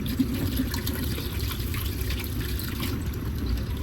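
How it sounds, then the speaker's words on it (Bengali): Tap water runs steadily into a basin as eggs are washed by hand, a continuous close splashing flow. "তো ডিমগুলো আমি ভালোভাবে ধুয়ে নিচ্ছি।"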